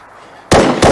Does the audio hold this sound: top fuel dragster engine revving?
no